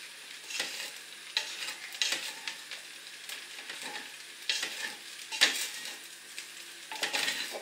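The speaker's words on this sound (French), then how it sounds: "Et je mélange." Leftover bread with salt is stirred in a frying pan, with repeated scraping strokes of a utensil against the pan over a soft sizzle, close and fairly quiet, without talk.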